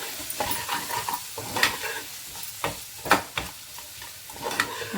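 A paneer and egg mixture with salt and red chili powder sizzles in a hot pan while a spoon stirs it in repeated scraping strokes, close and fairly loud with a steady frying hiss underneath.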